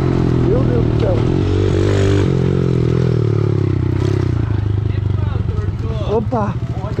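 A motorcycle with failed brakes runs with a steady engine hum and rattling clatter, rising slightly in pitch, while a rider talks excitedly over it.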